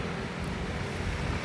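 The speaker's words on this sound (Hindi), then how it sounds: "यहाँ पर हवा चलती रहती ठंडी," Cold wind blowing at Brighton beach in the UK during winter, a steady rushing roar with buffeting microphone rumble and faint surf underneath, continuous and unbroken with no voices.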